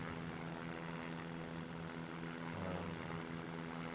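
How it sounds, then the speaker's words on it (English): A Stinson propeller airplane engine in the X-Plane flight simulator, flying over Washington, drones steadily with a constant low harmonic hum and a slight pitch shift partway through. "Might be fun to just fly around in this Stinson"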